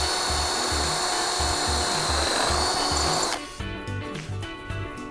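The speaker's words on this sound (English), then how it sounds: "Using the ceiling leg as a template and the drill bit provided, re-drill the mounting hole." A power drill whirs in short repeated bursts, re-drilling a mounting hole in an elevator ceiling leg with a rough grinding tone, then the pitch drops as it slows.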